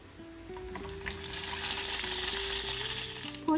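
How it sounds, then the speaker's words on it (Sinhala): Mustard seeds, chana dal, urad dal, cumin and dried chillies sizzle steadily in hot oil in a pan for Indian poori masala, a close, continuous frying crackle with a brief louder spike at the end. "භාජනයේ රත් වෙද්දි තෙල් ටිකක් දාගෙන ඒකට අබ, කඩල පරිප්පු, උඳු, සූදුරු, කරන් මිරිස් එකතු කර ගන්නවා"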